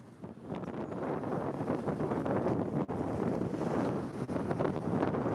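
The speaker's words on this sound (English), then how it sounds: "This weather's kind of worsening right now. It's a little windy." Wind buffeting a fishing boat at sea during a bluefin tuna trip in worsening weather, a loud continuous rushing gust noise with rising and falling surges striking the microphone.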